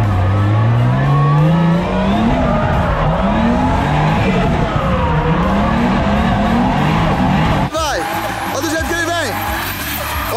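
A Nissan 350Z drifts into a parking spot, its engine revving and rising in pitch through repeated surges before tires squeal in sharp wavering bursts near the end, loud and close, with people talking over it.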